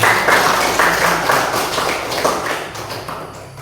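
A classroom of students applauds: loud, close clapping with distinct individual claps that gradually thins and fades toward the end.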